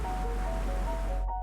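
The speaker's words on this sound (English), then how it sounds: "They cascade one after another, creating a series of smaller waterfalls that stretch for hundreds of metres" A chain of cascading waterfalls on the Xanil River near Palenque, Chiapas, Mexico, pours into pools with a steady, full roar that holds evenly before cutting off abruptly at the very end.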